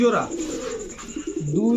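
A pair of Rajshahi Giribaj pigeons, a male and a female, coo close by in soft rolling phrases, with a human voice sounding alongside them.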